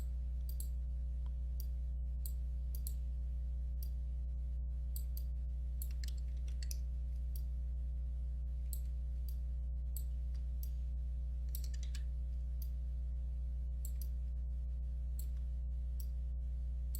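Keys clicking on a computer keyboard in short repeated presses, crisp and close, over a steady low electrical hum from nearby equipment.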